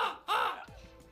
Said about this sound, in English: Some crows might start appearing.